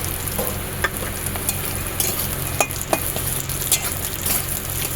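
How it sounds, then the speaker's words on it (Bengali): Peanuts and young jackfruit being stir-fried in a pan, a continuous close sizzle under repeated scraping and light clinks of a spatula against the metal, with no one talking. "দিয়ে আরও কিছুক্ষণ এরকম নাড়িয়ে নিতে হবে"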